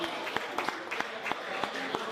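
At a Creole tropical street market in Saint-Ouen-l'Aumône, listeners clap for a musician. Distinct, roughly rhythmic handclaps come from a small group close by, with a voice talking over them.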